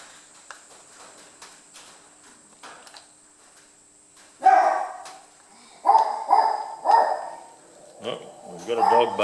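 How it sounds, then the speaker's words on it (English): A dog barks in short bursts, several loud barks at mid distance over a few seconds, after a stretch of faint clatter and low background noise. "We've got a dog barking about something."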